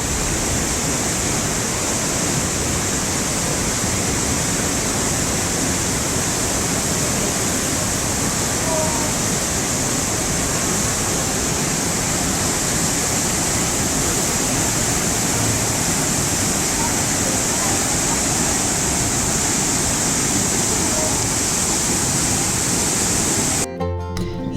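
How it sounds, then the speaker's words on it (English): Cascade Falls in Box Canyon, Ouray, Colorado, pours with a loud, unbroken roar of rushing water that stays constant and close throughout, with no voices over it. "Yes, the water is this loud."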